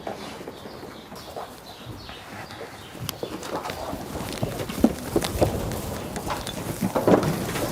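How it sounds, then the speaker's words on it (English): Sheep shuffle and scuff on their hooves in a pen as a handler moves in to catch one, irregular close thuds and scrapes with light bleats in the background. "I'll just see if I can move in and catch one of these ewes here, or rams, whoever I get."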